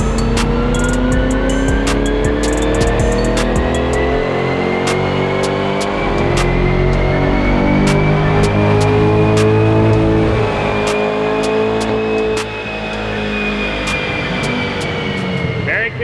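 Chevrolet C8 Corvette engine on a dyno, revving steadily up through a long pull, rising in pitch, then easing off as it coasts down near the end; loud and continuous, with sharp clicks throughout.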